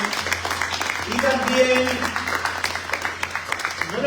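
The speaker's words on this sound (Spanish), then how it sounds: "le damos un fuerte aplauso" Church congregation applause, a fairly loud wash of clapping with a steady low hum underneath, while a voice speaks over it.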